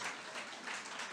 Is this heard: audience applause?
yes